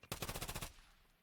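A rapid burst of gunfire in a Counter-Strike match, about half a second of fast repeated shots, loud and close, then a quick fade.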